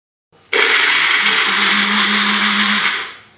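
A mixer grinder pureeing tomatoes switches on with a sudden loud whir, runs steadily for about two and a half seconds, then winds down and stops.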